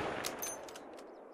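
Rifle shot in a hunting video game set in Spain, a few sharp cracks fading into a decaying tail over quiet outdoor ambience.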